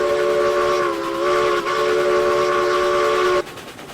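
In the RailRoads Online game, a Lima steam locomotive's whistle sounds one long, loud chord-like blast for about three and a half seconds and then cuts off sharply, with soft rail rumble underneath.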